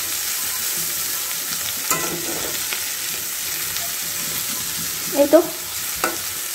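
Chanda fish fry steadily in a pan with coriander leaves added, a constant soft sizzle running throughout, with a brief utensil clatter near the end and a short spoken phrase.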